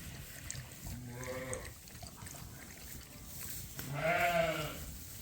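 Pregnant ewes in a lambing barn give two drawn-out, wavering bleats, the second louder and closer, over a low background rustle.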